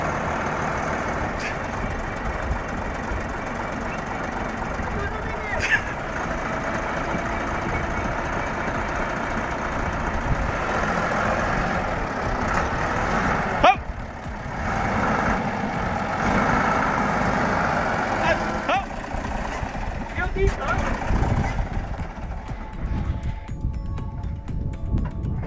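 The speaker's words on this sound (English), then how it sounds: "When a Deutz gets stuck in soft sand like this, it's usually a weight distribution issue" Deutz tractor stuck in soft sand, its heavy diesel engine droning and revving continuously under throttle, with brief clanks and a louder surge midway, while a voice talks faintly in the background.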